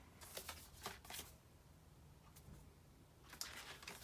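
Lobby cards from a Blu-ray collector's set being handled and shuffled, with soft papery slides and flicks in short bursts, a quieter pause in the middle and more rustling near the end, all close and fairly faint.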